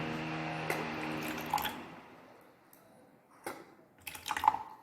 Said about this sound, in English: if some crystal are present here, we will use the wash bottle, right? So that full crystal they come down